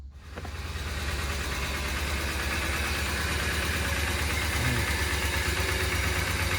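A single overhead cam car engine idles nearby after an oil top-off, with a steady low rumble and a faint rhythmic tapping running evenly throughout, loud and alone with no talk.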